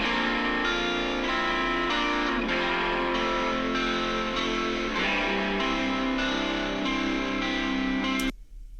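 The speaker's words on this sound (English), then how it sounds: "And then two more stereo guitars," Two stereo electric guitars in a How Great Thou Art arrangement, one down-tuned to C standard, playing arpeggiated notes in a dense, sustained wash with steady rhythmic picking, then stopping abruptly.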